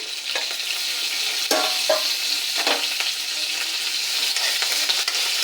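Dried red chili, garlic and curry leaves fry in hot oil with a loud, continuous crackling sizzle, broken by a few stirring scrapes.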